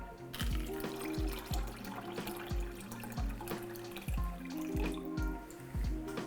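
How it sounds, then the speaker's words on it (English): Cold water runs and splashes steadily into a pot, about six cups, with rhythmic knocks and clinks throughout, nearby and moderately loud. "fill that up with about 6 cups of cold water"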